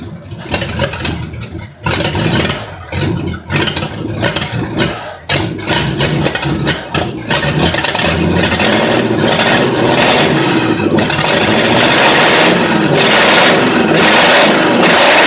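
A Ford Flathead engine in a 1949 Ford F68 truck starts up with sputtering, uneven bursts, then settles into a loud, steady running roar close by.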